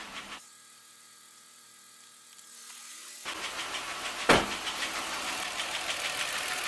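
Audi A6 C6 engine starting and idling in neutral with the handbrake on, a quiet pause giving way to a steady, close mid-pitched running drone with one sharp transient partway through.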